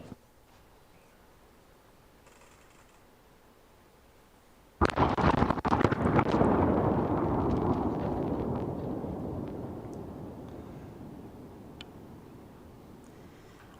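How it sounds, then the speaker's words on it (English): A large explosion in Nashville, filmed from a distance, hits suddenly as a sharp loud blast after a quiet stretch, then rolls into a long rumbling roar that slowly fades over several seconds. "you will see the explosion as it takes place"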